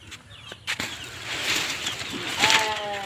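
Native chicken chicks on a homestead farm flap their wings in short rustling bursts, followed by a few thin chirping calls, close and moderately loud.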